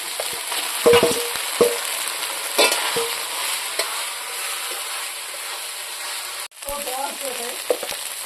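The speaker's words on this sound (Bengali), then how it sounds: "ভাজা ভাজনা পাতাগুলো দিয়ে দেবো" Drumstick leaves fry in a pan with masoor dal for a Bengali dal dish, a steady close sizzle broken by repeated scraping stirs and clinks of a spoon, with no talking.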